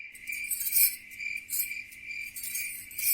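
Crickets chirp at night in steady pulsing trills, close and clear, with faint low background hum and no voices, setting an eerie horror-story mood.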